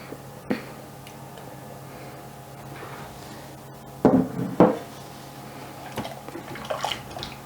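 Vegan vegetable stock, about two liters, being stirred in a soup pot, with a few sharp spoon knocks against the pot and soft sloshing, quiet and close with no talking.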